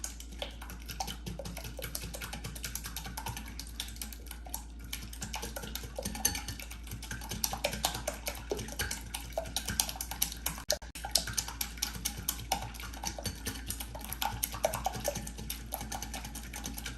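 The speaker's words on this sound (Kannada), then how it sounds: "ಸೊ ಈ ಮೂರನ್ನು ಚೆನ್ನಾಗಿ ಇವಾಗ ಬೀಟ್ ಮಾಡೋಣ." Eggs with vanilla essence are beaten in a bowl, giving a fast, steady stream of light clicking taps that continues unbroken and close by, with no talk.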